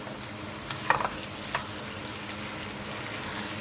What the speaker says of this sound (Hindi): अब इसमें हम अपने डालेंगे बैंगन और आलू जो हमने धो के काट के रखे हुए थे। इनको करेंगे मिक्स।